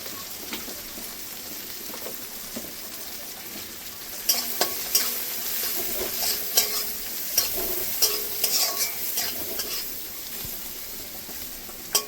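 Turmeric and Kashmiri chili powder frying in a pan with fried chilies and capsicum for a Bengali karela dish, a soft steady sizzle with scraping stirs growing louder and busier partway through.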